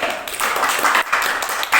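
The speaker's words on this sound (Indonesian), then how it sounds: "Tepuk tangan dulu untuk kelompok B." Students in a classroom clap for a group after a magnet experiment, a short, close burst of uneven hand claps.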